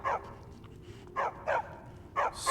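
A dog in the game Skyrim barks in short, separate bursts, four or five yaps spaced irregularly, moderately close over a low background hum.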